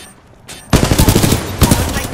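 Rapid automatic gunfire in the Titanfall 2 bounty hunt game, a loud close burst that starts abruptly after a quieter lead-in and continues in a fast stuttering rhythm, with a brief swell near the end.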